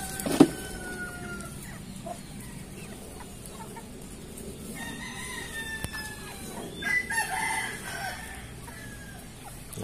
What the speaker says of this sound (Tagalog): Ang lalaking chicken.